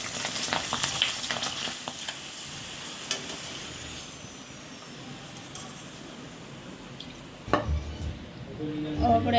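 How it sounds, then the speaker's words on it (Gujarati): Bhungla fryums fry in hot oil with a soft, continuous sizzle, joined by a few light clinks of utensils and a louder clatter near the end. "આપણે એમાં નાખશું ભૂંગળા તળી લઈશું।"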